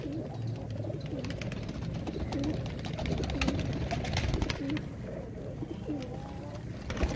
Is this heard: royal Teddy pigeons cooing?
yes